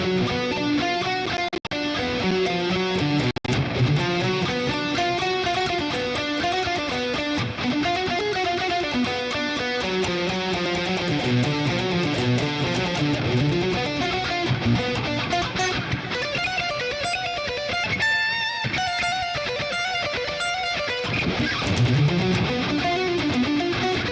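An electric guitar plays a scale in a dense, sustained run of notes, loud and continuous from start to finish, with no talk over it.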